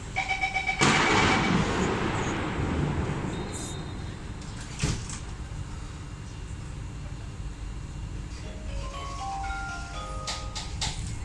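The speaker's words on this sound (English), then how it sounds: "Doors are closing." SMRT Kawasaki-Sifang C151C train doors slide shut with a whoosh and thump, followed by a steady electronic chime of rising and falling tones over the carriage hum.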